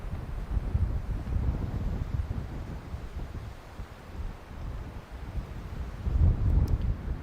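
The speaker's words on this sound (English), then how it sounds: "Tricky crosswind." A tricky crosswind blows across a disc golf course during a charity tournament round in Waco, making a steady, gusty low roar as it buffets the microphone. No one speaks.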